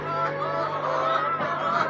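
Chickens in a coop squawk and honk loudly at close range in a busy chorus of overlapping calls, with no talk.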